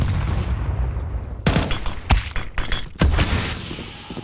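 Gunfire in a professional Counter-Strike match between 3DMAX and Vitality at IEM Kraków, with several sharp close shots and short bursts cracking out over low in-game ambience.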